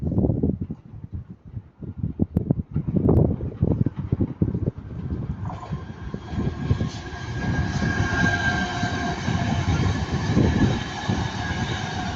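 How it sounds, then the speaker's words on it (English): A pair of Northern Class 323 electric trains bound from Blackpool North to Manchester Airport pass at Ardwick, with a loud rhythmic clatter of wheels over rail joints that gives way to a sustained rising motor whine and rushing roar. "Now passing by is going to be Northern Class 323, a pair of Northern Class 323, going from Blackpool North to Manchester Airport."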